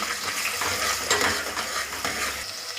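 Onions frying in oil in a pan for a mutton bagara curry, a steady dense sizzle throughout with occasional stirring scrapes, close and fairly loud, no voices.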